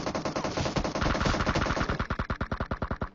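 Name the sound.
gunfire in the video game PUBG Mobile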